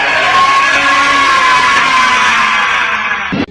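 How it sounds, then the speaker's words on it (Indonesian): A loud, sustained angry shout in an Indonesian audio drama: one continuous, strained bellow held for about three seconds at full volume, then abruptly cut off. "Akhirnya Sabalangit berteriak sekencang-kencangnya, pertanda kemarahannya tak bisa dibendung lagi."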